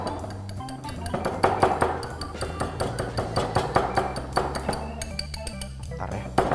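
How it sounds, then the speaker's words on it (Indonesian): A spoon clinks rhythmically against the side of a bowl in quick, repeated strokes, stirring microwave chocolate cake batter, up close and without talking. "Oke, kita aduk lagi."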